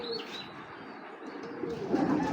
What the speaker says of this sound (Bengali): এগুলো বিগ সাইজের কবুতর